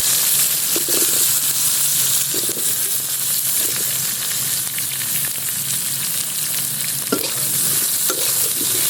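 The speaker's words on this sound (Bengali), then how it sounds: "এবারে তেলের মধ্যে আমি ধুয়ে রাখা বেগুনগুলো হালকা করে ভেজে নেব।" Washed eggplant slices fry in hot oil with a steady, continuous sizzle and occasional crackles and stirring scrapes, heard up close with no talking.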